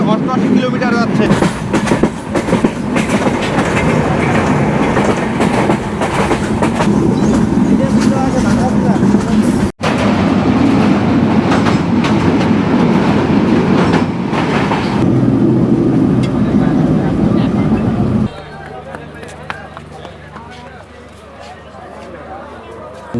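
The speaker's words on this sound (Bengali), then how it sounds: "বন্ধুরা, আমাদের ট্রেনটি এখন 88 স্পিডে চলতেছে, মানে প্রত্যেক ঘন্টায় 88 কিলোমিটার যাচ্ছে।" An Ekota Express passenger train runs at 88 km/h with a steady, loud rumble and rhythmic wheel clatter throughout. Near the end the roar drops to a quieter, lower hum as the train slows. People talk intermittently over the noise.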